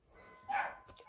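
A short doorbell chime rings once indoors during a quiet home needle-felting session, a faint ding lasting under a second against a soft background.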